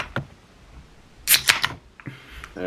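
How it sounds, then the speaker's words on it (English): A beer can is cracked open at the start of a podcast episode: a sharp, close pop with a quick hissing burst, set between a few softer clicks and handling noises. "Every episode just starts with me cracking open a beer."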